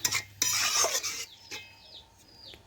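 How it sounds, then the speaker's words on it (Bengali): A utensil scrapes and clanks against a pan while jackfruit seed curry is stirred, several quick metallic strokes close by, with brief pauses between them. "এইভাবে আমি নাড়াচাড়া করে দেখুন সমস্ত কিছু একসাথে মিশিয়ে নিলাম"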